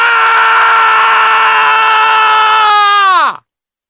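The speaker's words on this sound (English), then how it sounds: "Scream." A lone human scream, loud and sustained at a steady pitch for about three seconds before breaking off sharply into silence.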